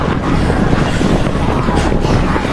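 A horde of zombies rushes through an apartment building's main door, making a dense, continuous roaring patter like heavy rain, loud and steady throughout.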